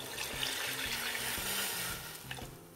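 Octopus cooking water, about 1400 ml, poured into a pot for octopus rice, making a steady, close splashing and running stream of liquid that fills the clip alone.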